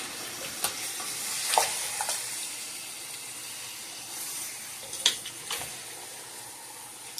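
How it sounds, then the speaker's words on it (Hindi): Veal pieces fry in a pot for nihari with a continuous soft sizzle and hiss of steam, broken by a few sharp spoon scrapes as the meat is stirred; no talking. "जब तक गोश्त का पानी जो है ये ड्राई नहीं होएगा तो हम इसको भूनते रहेंगे।"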